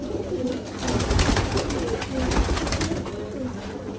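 Crested pigeons cooing close by, repeated soft throaty coos overlapping in a steady run with a faint background hum.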